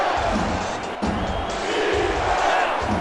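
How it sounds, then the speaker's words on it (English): A stadium crowd at an American football game roars steadily as fans rise for a goal-line stand, a broad sustained wall of cheering with a brief dip near the first second, heard beneath a play-by-play commentator's voice. "And the crowd rising to their feet now, looking for a goal line stand."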